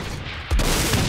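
A loud, booming gunshot in the video game Saints Row IV bursts in suddenly midway, followed by a dense, sustained rush of noise like rapid fire or echoing blasts.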